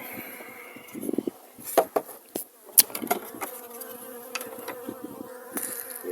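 Honey bees, Carniolan, buzz close by at a hive in early March in a busy, continuous drone, with scattered knocks and wooden clatter as the hive is handled.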